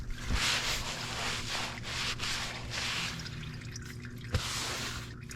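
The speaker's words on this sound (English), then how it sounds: "I'm gonna let the little excess drain out." Engine oil dripping from the drain of a 2021 Ford Escape during an oil change, a steady patter of drips with a couple of sharper splashes, close by with no talking.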